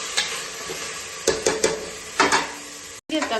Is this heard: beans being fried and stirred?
yes